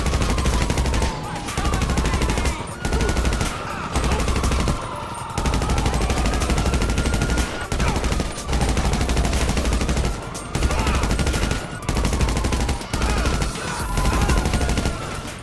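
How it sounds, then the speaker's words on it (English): Special Carbine Mark II fire in GTA Online, with loud, rapid automatic bursts repeated through the stretch, broken by short pauses, and a continuous electronic music bed running underneath. "The Special Carbine Mark II is the weapon I use the most, as it's arguably the best all-rounder."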